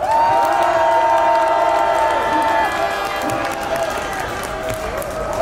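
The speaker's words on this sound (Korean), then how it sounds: "힘차 박수 부탁드리겠습니다" A large crowd of tens of thousands at the 12th candlelight rally, ending at Samgakji, applauds and cheers, producing a loud, sustained wash of clapping and voices with a tonal layer beneath that slowly eases.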